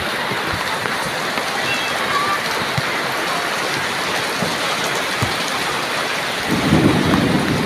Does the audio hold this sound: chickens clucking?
no